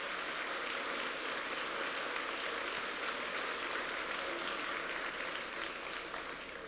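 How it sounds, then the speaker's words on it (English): Distant, faint applause from a crowd, a continuous even hiss of clapping that holds steady throughout without breaks. "So just a round of applause to all of our first responders"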